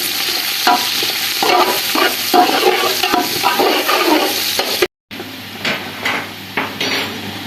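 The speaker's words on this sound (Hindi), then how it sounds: "इसमें 2 प्याज ऐड करेंगे और ब्राउन कर देंगे" Onions sizzle and crackle in hot ghee while a spoon scrapes and stirs against the pan in repeated strokes, close and fairly loud.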